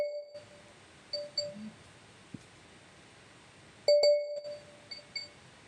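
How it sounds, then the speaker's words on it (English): Viber message notifications chime several times in a quiet room: faint scattered dings, then one louder clear ding near the end followed by softer ones, with no talking. "Too many notifications from my Viber."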